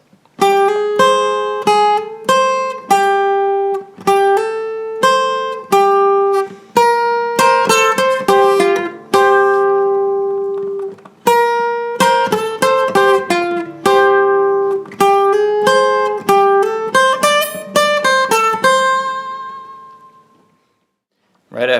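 Guitar plays a longer passage of a song slowly, with bends on the third string. Many close plucked notes and short runs ring out one after another, with a brief gap midway and a fade near the end.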